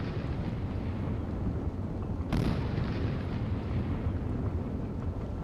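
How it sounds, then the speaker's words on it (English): In the naval warfare game Sea Power, a missile launches with a sudden sharp burst that flows into a sustained, roaring rush over a constant wind-like background. No one speaks. "There, he's shooting a missile at him."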